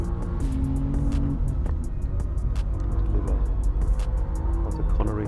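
A BMW M4 CSL on a Nürburgring lap, its engine note rising and falling through gear changes with fast repeated upshift pulses, heard loud and continuous alongside road and tyre noise.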